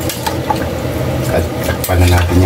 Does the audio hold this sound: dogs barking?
no